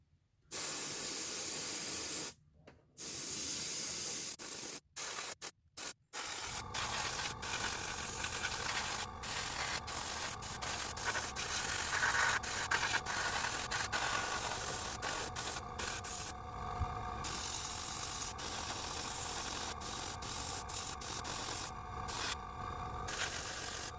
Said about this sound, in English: being careful not to overspray because at this stage of painting it would be harder to clean up.